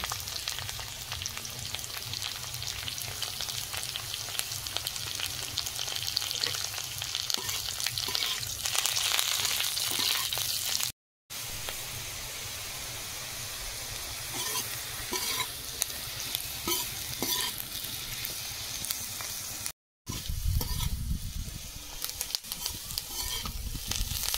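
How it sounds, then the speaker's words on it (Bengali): Potatoes fry in a pan with curry leaves and poppy seeds. A loud, dense sizzle runs steadily throughout, stirred now and then with scraping, and the sound is broken by two brief silent gaps. "কারি পাতা দিয়ে দিচ্ছি আর পোস্ত"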